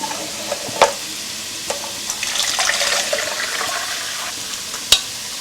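Cajun trinity vegetables (onion, celery, bell pepper) cooking in a pan for gumbo, a soft steady sizzle with a few clinks and stirring knocks, close by and without speech.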